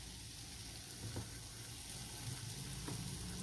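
Oil sizzles steadily in a pan under semolina-coated bread toast spread with butter, a continuous close frying hiss with faint stirring or scraping touches and no talk.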